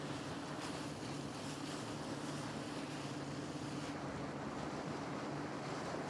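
Victoria Falls on the Zambezi River roaring with rising spray, a steady, dense wash of broadband water noise with a low rumble, continuous and unbroken throughout, no voices.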